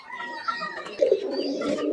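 A pigeon on a fancier's farm gives a short, close coo, a low rolling call that swells in the second half, with no talking.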